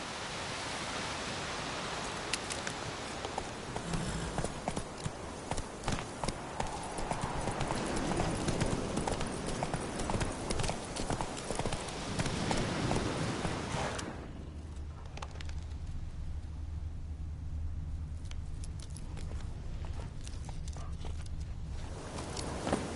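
Horse hooves clip-clopping in The Witcher 3 video game, a rapid continuous run of hoofbeats with rustling that drops to a quieter, sparser walk over a low ambient hum near the end.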